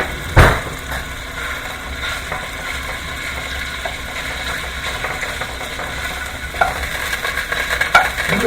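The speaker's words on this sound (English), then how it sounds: "Sausage is cooking up really fast, so that's good." Sausage sizzling in a very hot pot, a steady crackling fry that carries through the whole stretch, with a sharp clatter near the start and occasional utensil knocks, close and fairly loud with no talking.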